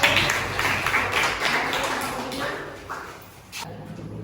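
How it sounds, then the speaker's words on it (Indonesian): Pupils applaud a presenting group in a classroom lesson, a diffuse patter of claps from many hands that stays fairly steady, then dips and resumes briefly near the end, with faint voices underneath. "Beri tepuk tangan untuk kelompok 1."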